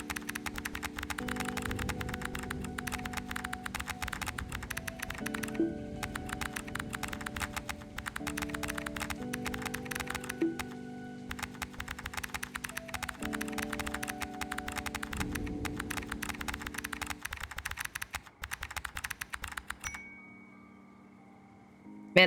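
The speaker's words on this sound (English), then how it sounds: "Okay, let me just try typing this one." Fast, steady clatter of computer keyboard keys typed in the CozyTyper game, close and continuous over soft tonal game music, ending in a brief quiet tail.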